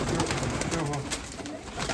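Crested pigeons, black chubaki, cooing inside a pigeon loft, a steady low murmur of overlapping coos close by with a little background noise.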